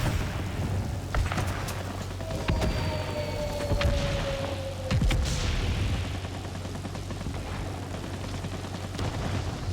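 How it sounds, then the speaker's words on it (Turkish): A bomb drops from a warplane in World of Warplanes and bursts into a muffled blast, set among steady engine drone and scattered gunfire-like thumps throughout. "Şu bölgeye bir bomba bırakabiliriz. bıraktım."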